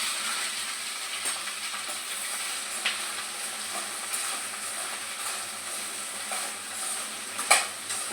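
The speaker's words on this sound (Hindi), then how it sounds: "तो मैं भिंडी छौंक रही हूँ। तो देखिए मैंने ले लिया है जीरा, तो मैं जीरा डालूँगी" Steady crackling sizzle of okra frying in hot oil with cumin, with occasional scrapes and a sharp clink of a utensil against the pan.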